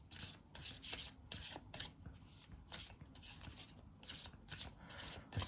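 Tarot cards are handled and shuffled during a reading, giving soft, repeated rubbing and riffling bursts, close and fairly quiet, in uneven rhythm with no speech.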